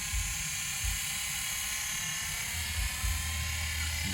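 An XK V915-A LAMA-style 4-channel 2.4GHz RC scale helicopter hovers at low height with a steady high whine and buzzing rotor drone, holding close and fairly loud throughout with no talking.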